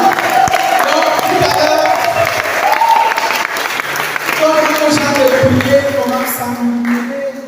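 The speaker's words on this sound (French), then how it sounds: "Est-ce que tu peux acclamer pour Jésus?" A church congregation cheers and applauds for Jesus at a French-language service, a loud sustained roar of clapping and shouting voices close by, with a speaker's voice also carrying over the crowd.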